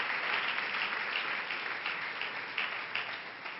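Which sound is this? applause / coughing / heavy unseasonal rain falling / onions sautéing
applause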